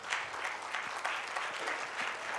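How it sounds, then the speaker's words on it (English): Following an architecture presentation at a 50th anniversary celebration, an audience applauds in a brief, steady wash of many hands clapping, moderately distant and evenly sustained. "the whole presentation deserves a standing ovation and a big round of applause, please"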